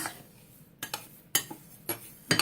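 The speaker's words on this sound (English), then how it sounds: "So you want to stir now to incorporate all your essential oils" A spoon stirs essential oils into magnesium bath salts in a bowl, giving four or five bright scraping, clinking strokes spaced about half a second apart, close and clear with no talking.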